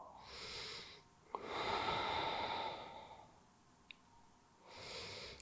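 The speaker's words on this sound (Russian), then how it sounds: "Дышим глубоко." Slow, deep breathing during a beginner home yoga session: two long, airy inhale-exhale swells close to the microphone, separated by quiet pauses, with no talk.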